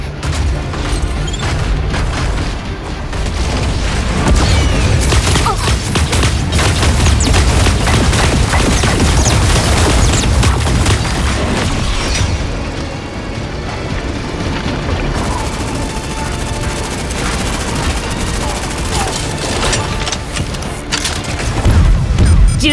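Dense, continuous gunfire and booming explosions from mech combat in the video game Super Mecha Champions, loud and sustained throughout with no talking.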